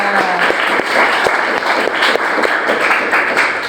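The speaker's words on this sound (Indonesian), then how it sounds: "Oke, tepuk tangan buat kita semua." A large audience at a morning gathering claps together, loud and continuous rapid patter of many hands with no voices standing out.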